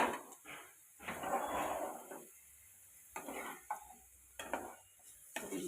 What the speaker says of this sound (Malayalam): പാവയ്ക്ക വറുത്തെടുക്കുക.